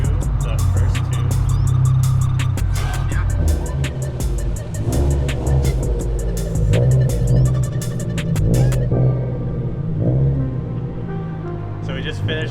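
A Subaru WRX STI with Varis Arising-II bodywork rolls slowly between pillars in a garage, its engine a loud, steady low rumble and throb that eases off later on, with people talking nearby.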